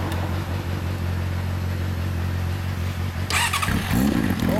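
A 2006 Honda CB400 motorcycle with an aftermarket Over exhaust idles loudly up close, then blips sharply through a few quick revs near the end.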